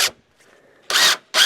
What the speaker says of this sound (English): you reverse the drill so that it pulls the screw up